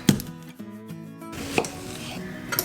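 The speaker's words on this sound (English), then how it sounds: "I'm gonna go ahead and cut up that celery and an onion." A knife chops celery and onion on a board, a few sharp thuds at the start and again about midway, with quieter scraping between and no talking.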